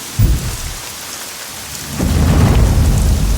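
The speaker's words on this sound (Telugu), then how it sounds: "ఎక్కడ తెచ్చాడు వీడు ఈ వర్షం అయితే?" Heavy rain pours down steadily with deep rolling thunder, a loud rumble near the start and a stronger, sustained downpour building from the middle onward, with no voices.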